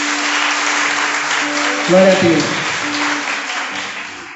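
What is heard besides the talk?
congregation applause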